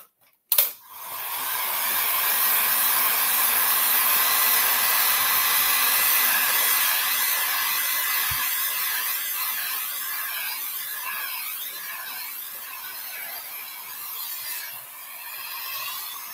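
A hair dryer blows steadily and loudly for a long stretch, drying a decoupage Christmas sleigh decoration, with a constant whooshing roar and faint rubbing noises, then briefly dips near the end.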